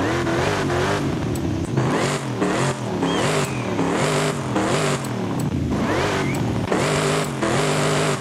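A car engine in Forza Horizon 5 revs repeatedly in rising and falling surges, loud and continuous, with quick throttle blips over a constant exhaust drone.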